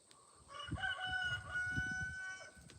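A rooster on a homestead crows once, a clear drawn-out call lasting about two seconds, heard from moderate distance over a soft low rumble of background noise.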